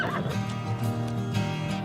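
A horse neighs in a brief, moderately loud whinny lasting under two seconds, with no talking over it.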